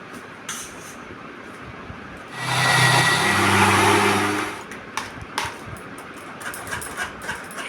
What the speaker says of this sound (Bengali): টমেটোর খোসাগুলো ছাড়িয়ে নিচ্ছি, মিক্সিতে পেস্ট করে নেব।